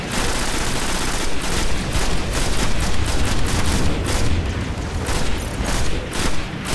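A grenade blast in the sci-fi shooter Destiny, part of a dense, loud run of booming explosions and gunfire that stays steady and continuous throughout, with no voices heard.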